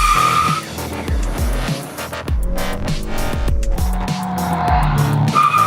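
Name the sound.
Honda manual car launching with tire squeal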